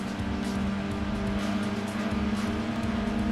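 A modified race car with an upgraded clutch and flywheel runs in Gran Turismo 2, its engine droning loud and steady with quick shifts in pitch as gears change, no voices over it.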